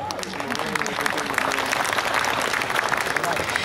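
A crowd at a Hindi poetry gathering (kavi sammelan) held by a women's awareness committee in Sujangarh applauds steadily, a dense, even patter of many hands that holds at the same level throughout.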